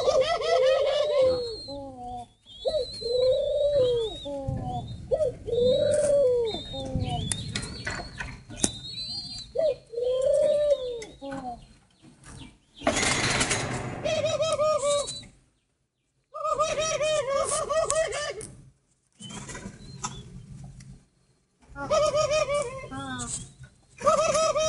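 Caged spotted doves give repeated soft, rhythmic cooing phrases with short pauses between them, close and clear, with someone talking intermittently.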